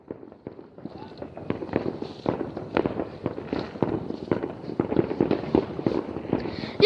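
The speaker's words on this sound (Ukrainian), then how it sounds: "Везде салюты. Просто везде." New Year's Eve fireworks bursting across the sky, many pops and crackles at irregular intervals, some near and some distant, with voices talking now and then.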